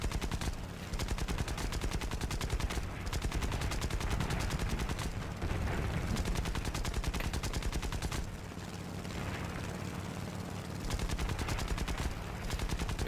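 Machine guns of an A6M2 aircraft firing in War Thunder, long loud sustained bursts of rapid gunfire with brief pauses between volleys, engine drone underneath.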